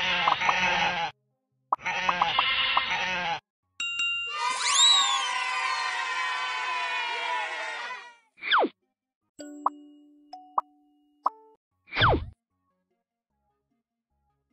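Two close, loud sheep bleats, followed by a sparkling sliding tone, then scattered plops and dings with short silences between them.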